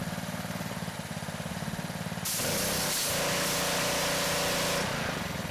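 A Ryobi gas pressure washer rated 3,100 PSI and 2.5 GPM idles with a steady chug, then jumps to a loud high-pitched roar with spraying hiss as the trigger is pulled, close and without talk.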